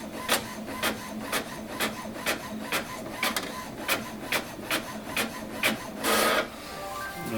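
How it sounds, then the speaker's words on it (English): An HP Officejet Pro 6830 inkjet printer printing a page, with a steady rhythmic chatter of the print head shuttling back and forth and a brief whirring feed near the end, close up and without speech. "I can print the email address of the printer."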